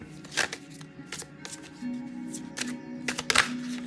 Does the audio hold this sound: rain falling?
no